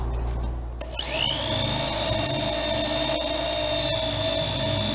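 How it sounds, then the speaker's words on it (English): After a brief rustle, a power drill spins up drilling a hole in a fiberglass subwoofer box and runs at a steady high whine close by, continuing without letting up. "First we'll need to drill a hole"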